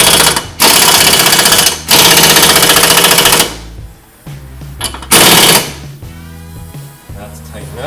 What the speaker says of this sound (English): Now you can tighten up your castle nut.